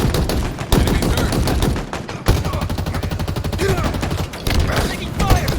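Automatic gunfire in the video game Halo Infinite, dense rapid bursts of shots running almost continuously, broken by brief gaps, with in-game voice callouts over it.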